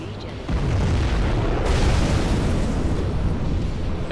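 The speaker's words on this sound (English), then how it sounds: "We have launched our nuclear missile." A nuclear missile detonates in the C&C Zero Hour video game, a sudden loud boom that swells into a sustained roaring rumble of explosion noise lasting several seconds.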